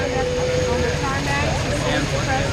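Pennsylvania Army National Guard military helicopters (a CH-47, an AH-64 and a UH-60A) depart at the Rotorfest 2010 air show, giving off a loud, steady, thick rotor and engine roar that never lets up.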